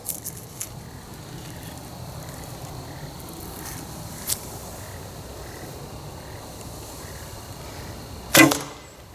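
A Ben Pearson Cobra bow shoots an Easton Access arrow outdoors: one sharp thunk of release and impact near the end, over a steady background of croaking frogs and faint insects.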